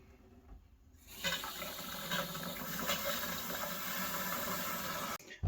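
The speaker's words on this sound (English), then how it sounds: "I'm going to run some more water." Water rushing through newly installed laundry plumbing, starting after a second of quiet and running as a steady, soft hiss before cutting off abruptly.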